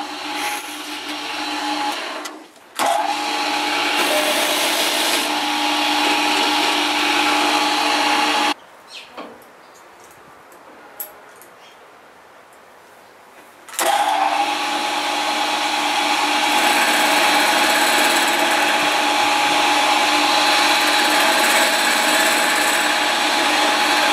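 A milling machine pockets out a recess for a brass lead screw nut, its cutter running in long, loud, steady stretches with a brief stop early and a quieter pause in the middle before cutting resumes.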